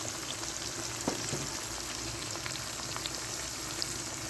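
Potatoes with onion and tomato sizzling in a pan, a steady close frying hiss with faint crackles and occasional stirring taps throughout.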